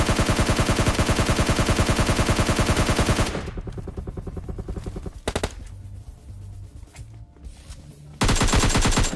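A Scar-L rifle in PUBG Lite sprays in a long, fast, rhythmic burst of loud close shots, then pauses for a few seconds of quieter clatter, then opens up again in another sustained burst.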